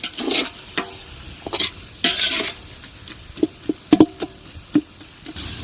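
A biryani mixture with tomato being stirred in a pot, heard as irregular scraping and clattering strokes over a soft sizzle, loud and close, with sharp knocks near the end and no talking.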